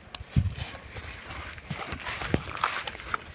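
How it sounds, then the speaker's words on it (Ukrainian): A working draft stallion walks in harness pulling a load, its hooves clip-clopping unevenly with a few sharper knocks amid outdoor rustle, moderately close, with no talking. "продемонстрував, як жеребець їде"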